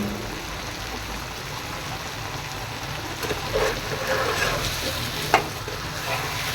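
Dhaba-style chicken masala frying in oil as a spoon keeps stirring it, giving a steady, close sizzle with occasional scrapes and one sharp clink, and no speech.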